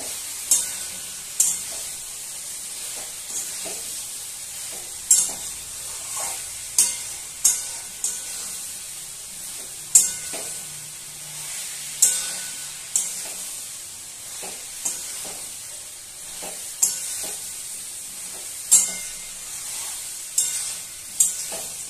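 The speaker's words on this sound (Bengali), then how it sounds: "আবারও নাড়াচাড়া করে দেবো আমি" A pumpkin and Malabar spinach dish cooks in a pan under a soft, constant sizzle, while a utensil stirs and scrapes it in regular strokes.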